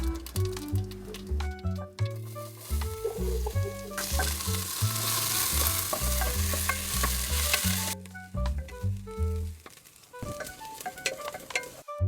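Cumin seeds and chopped onion frying in a pan for goat leg soup, with a bright crackling sizzle that swells in the middle, spatula stirring and scraping, and soft music in the background.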